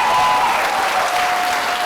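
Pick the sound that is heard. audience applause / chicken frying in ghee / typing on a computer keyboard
audience applause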